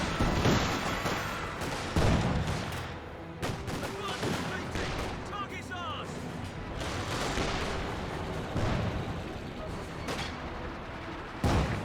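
Boys AT rifles firing in the strategy game Company of Heroes 2, sharp cracks and booms recurring irregularly amid wider battle noise, with a voice talking over the action throughout.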